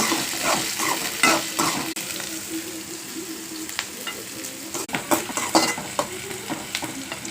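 Onions fry in a pan of hot oil, a steady crackling sizzle broken by frequent spoon scrapes and light clinks against the metal, close by and with no talking.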